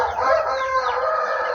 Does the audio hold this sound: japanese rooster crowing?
yes